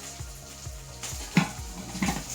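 Green chili, onion and garlic sizzle in hot oil for an ivy gourd thoran, with a soft steady fry broken by a few stirring scrapes and clinks of a spoon against the pan.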